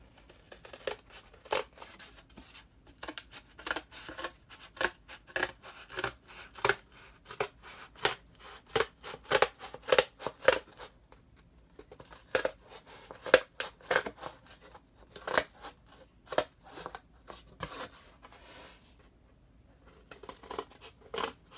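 Scissors cutting material for a DIY smartphone speaker amplifier: long run of rapid, crisp snips and crinkles close up, pausing briefly a couple of times, no talking.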